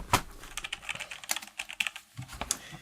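Typing on a wireless mechanical keyboard fitted with Romer-G switches: quick, irregular bursts of crisp key clicks and clacks, close and fairly quiet, with short pauses between runs of keystrokes.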